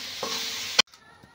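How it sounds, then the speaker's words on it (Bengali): Grated coconut being dry-roasted and stirred in a pan gives a soft scraping hiss that ends abruptly in a sharp clatter, followed by near silence. "এইভাবে আমি নারকেলটা বেশ ভালো করে ছাই মেরে নেবো শুকনো করে।"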